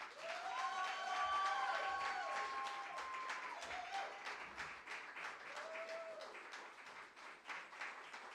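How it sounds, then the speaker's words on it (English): An audience at a live spoken word and poetry showcase at the Old Jail gives sustained applause to welcome a performer, loud and steady throughout, with a few whoops rising over the clapping. "please, please, please, please give a big round of applause and welcome to Derick Lee"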